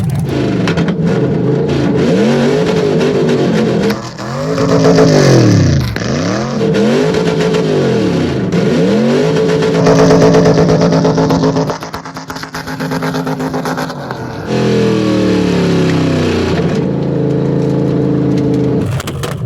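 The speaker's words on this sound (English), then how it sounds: "I'll never turn down a burnout" A loud LS V8 engine in an AC Cobra doing a burnout revs hard and roars continuously, its pitch sweeping up and down with repeated throttle blips, close and dominant with no talking.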